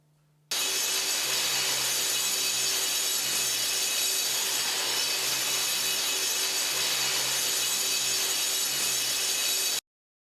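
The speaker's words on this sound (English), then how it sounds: "grind with the stand-up edge grinder along all edge walls" Stand-up edge grinder working concrete along the edges of walls, a loud, continuous abrasive whine and hiss that holds steady for several seconds and then cuts off abruptly.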